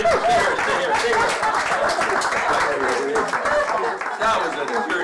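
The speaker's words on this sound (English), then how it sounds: "Everybody clap for her." An audience at a magic show applauds a volunteer, a burst of clapping from a crowd with a voice talking over it.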